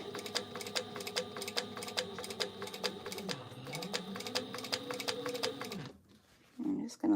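A Sailrite sewing machine fitted with a narrow foot stitches fabric for a clutch bag in a fast, even rhythmic clatter that stops near the end, followed by a couple of short handling sounds.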